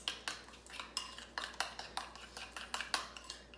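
Utensil scraping and clinking against a bowl while sour cream, cucumber, vinegar, dill and sugar are mixed for a Polish cucumber salad, in a quick repeated rhythm of close, moderate taps.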